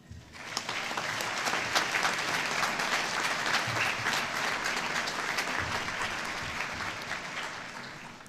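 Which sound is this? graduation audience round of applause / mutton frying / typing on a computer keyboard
graduation audience round of applause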